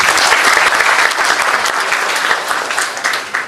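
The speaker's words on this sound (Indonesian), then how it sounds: "sekali lagi tepuk tangan untuk beliau" An audience at a university lecture event bursts into dense, sustained applause that stays loud and full throughout the short stretch, with many hands clapping close together and no talk standing out.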